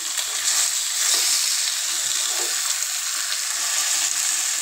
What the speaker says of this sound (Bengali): আর এদিকে হচ্ছে যে মাছ ভাজা হচ্ছে